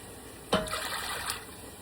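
Vinegar pours briefly into a water brine for pickled green beans, a short splash and trickle lasting under a second in a quiet kitchen, with a faint second trickle just after.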